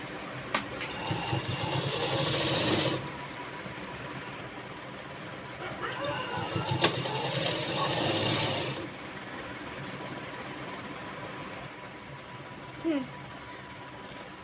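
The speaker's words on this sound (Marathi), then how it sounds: "आपण शिलाई त्या शिलाईवरती मारायची, बाहीच्या शिलाईवरतीच शिलाई मारायची" A sewing machine stitches along a blouse sleeve seam in two bursts of steady mechanical whirring, about three seconds each, with someone talking between and after them.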